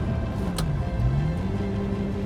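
A Ferrari F355 engine hums steadily as it is shifted gently from third to fourth gear, its tone dipping and then climbing again near the middle of the moment, heard from inside the car.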